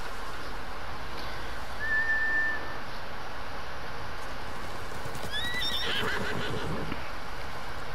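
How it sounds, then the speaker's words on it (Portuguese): Samurai horses in the video game Ghost of Tsushima neigh and whinny over a steady outdoor ambience, with hoofbeats and a brief whistle-like cry in the middle. "Os malditos espantaram os cavalos. São cavalos de samurai, treinados para voltar para seus mestres."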